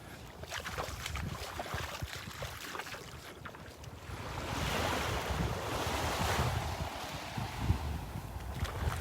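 Wind gusts sweep across a beach at Delnor-Wiggins, with surf breaking behind them. The breeze swells into a louder, steadier rush about halfway through. It buffets the microphone continuously and no one speaks.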